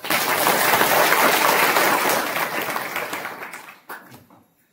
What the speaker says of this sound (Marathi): माता एकच टाळी वाजवा की काय?